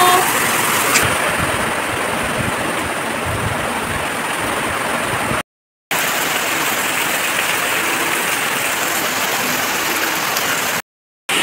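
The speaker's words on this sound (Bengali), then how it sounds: "দেখো বন্ধুরা কেমন জোরে জোরে বৃষ্টি হচ্ছে" Heavy rain driven by wind falls at night, heard from a window as a steady, dense roar that cuts out twice in brief silent gaps.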